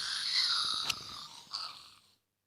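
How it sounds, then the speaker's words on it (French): Ghast death sound from Minecraft, a drawn-out, high wailing cry of about two seconds, with a sharp crackle near the middle and a second swell before it cuts off to silence. "et le son de sa mort, qui est un peu long"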